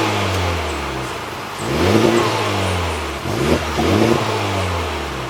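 A 2017 Honda Civic Type R engine cranks and catches, then revs up twice in quick bursts before settling back to idle, loud and close.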